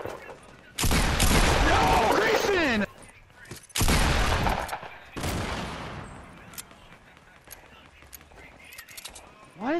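Video game gunfire rips out in two long loud bursts of rapid shots, then a shorter, quieter volley follows, with players chattering over the action.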